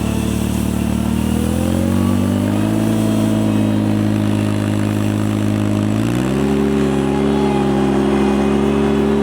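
A power broom sweeper with an adjustable tilting rotary brush clears a front walkway without salt, its engine droning loud and close throughout, shifting up in pitch partway through.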